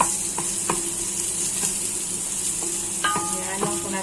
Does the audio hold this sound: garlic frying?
yes